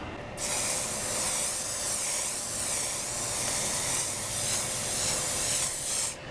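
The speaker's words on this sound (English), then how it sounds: "I'm just going to go ahead and spray it with a good coating." A steady, loud aerosol hiss of hairspray sprayed onto a glass printer bed, continuing for about six seconds, starting abruptly and cutting off at the end, with no voices.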